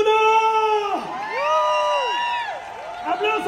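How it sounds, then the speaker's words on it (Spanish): A live audience at a comedy show in Houston cheers, whoops and shouts for contestant number one, a loud, close crowd sound with high, sliding voices rising and falling over about three seconds. "¡Aplauso para el número uno!"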